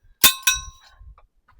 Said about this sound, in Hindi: यहाँ पे घंटी भी है।